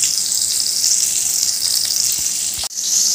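Tomato pieces with a pinch of salt fry in hot oil with tempering spices for a pumpkin curry, giving a steady loud hiss and sizzle, briefly cut near the end before resuming.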